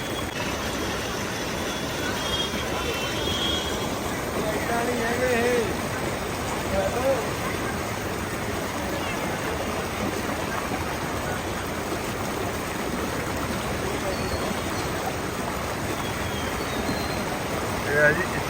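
Spring water gushes with force from beneath a mountain at Achabal, Kashmir, as a steady, dense, close rush of churning water that continues without a break throughout.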